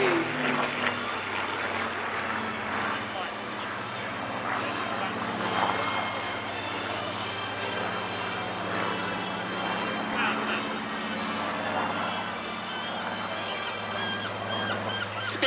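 A Supermarine Spitfire fighter performs a flying display at the Clacton Airshow, its piston engine droning steadily with a low throbbing hum that rises and falls in the distance, while a commentator talks over the public address throughout.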